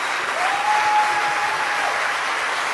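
An audience applauds speakers at a launch event for an Afghan Green Party in exile: dense, steady clapping fills the room from start to finish, with a thin whistle-like tone running through the middle.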